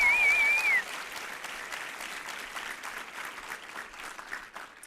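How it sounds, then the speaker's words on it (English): Applause from an audience at a live broadcast at the University of California, Irvine, steady crowd clapping throughout, with a brief whistle at the start before settling into even, moderately loud clapping. "So round of applause for these guys."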